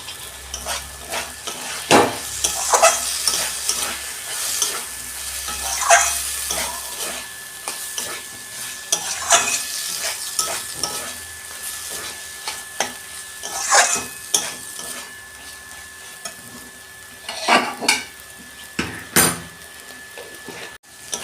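Papaya curry fries with a pinch of garam masala, a continuous close sizzle under frequent spatula scrapes and metallic clanks against the pan, coming in uneven clusters throughout.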